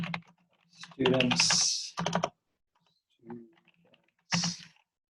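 Typing on a computer keyboard while text is entered into a document, the keystrokes landing in short bursts mixed in with a nearby voice talking.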